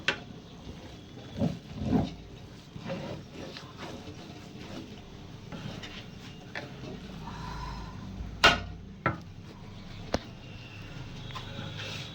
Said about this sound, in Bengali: আমরা এটাকে আরেকবার নেড়ে দিব।